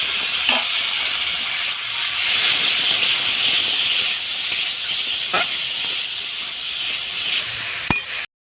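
Steady hissing sizzle of vegetables frying in spice paste in a hot pan, loud and close, with a few faint clinks of stirring.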